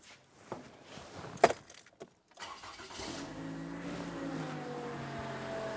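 A Toyota Venza is started after a few clicks and a sharp key knock, the engine catching around three seconds in and settling into a smooth, steady low idle, with no talk.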